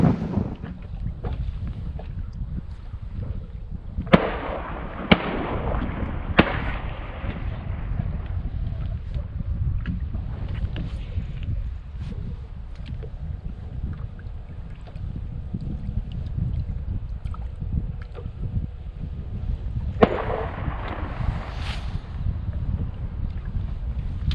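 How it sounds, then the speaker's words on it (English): Strong, cold wind buffets a fishing boat out on a Texas lake, rumbling and gusting against the microphone in low, uneven blasts, with occasional knocks and thumps on the boat. "The wind is blowing the mats loose."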